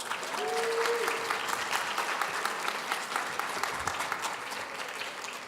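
An audience at a school academic quiz competition applauds a middle school's 6th grade team, steady sustained clapping from a sizable crowd that holds throughout and thins only slightly toward the end, with a brief faint tone near the start.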